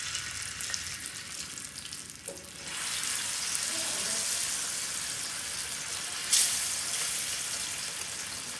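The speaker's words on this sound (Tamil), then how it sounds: "இப்போ நம்ம ஃபிஷ் எல்லாம் பொரிச்சு எடுத்துடலாம்." Steady, close frying sizzle of fish in shallow oil on a tawa, a broad hiss with faint crackles and a short sharp burst near the end.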